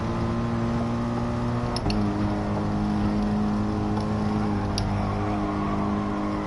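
Racing car engine from a racing video game holds a steady, loud drone with a strong pitched whine throughout, briefly shifting pitch near the two-second mark, with no distinct tyre skid standing out.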